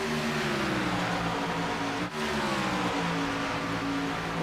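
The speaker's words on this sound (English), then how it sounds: "he's straight shutting that car all the way off through turns 3 and 4" A sim-racing stock car at Darlington rolls off throttle through turns 3 and 4 to save fuel, giving a steady, loud engine drone with a brief dip midway.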